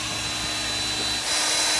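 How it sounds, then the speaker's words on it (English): CS Unitec MAB 485 magnetic drill boring through titanium, a steady loud broadband whine that grows harsher and louder toward the end, heard alone without voices. "Show everybody what it's like to drill through titanium."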